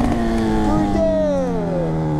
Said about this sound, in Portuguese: só de acelerar a moto